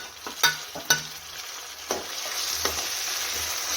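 Onion, ginger-garlic-coriander paste and tomato hit hot oil in a pan, giving a loud close sizzle with a few sharp bursts early on as the ingredients go in and are stirred, then a steadier hiss, with no talking.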